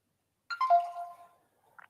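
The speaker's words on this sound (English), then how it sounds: "that was my phone beeping" A mobile phone gives off a short electronic alert, a single brief chiming tone that falls in pitch, then a tiny faint blip, alone in a quiet room.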